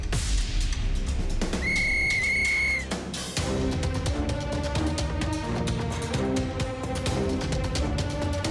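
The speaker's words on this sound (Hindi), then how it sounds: "सीटी बजाते ही रेस शुरू हो जाएगी" A sharp whistle blows to start a race in a kids' cartoon, giving a short steady shrill note with a fainter tone before it, over busy, loud background music.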